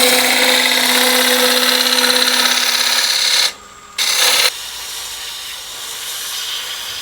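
A spindle gouge cuts an elm lidded box on a wood lathe, making a steady loud hiss with a whine from the spinning lathe. Brief gaps fall between the cuts, then a quieter, rougher scraping follows.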